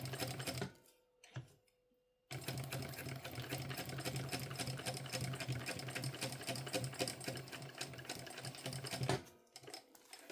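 A sewing machine stitches backpack lining in a long continuous rapid whirring run, close and steady, with brief stops and short bursts at the start and end.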